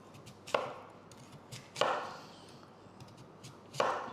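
Knife chopping through a peeled sweet potato on a board, three sharp, fairly close cuts spaced out over a few seconds with faint quieter knocks in between.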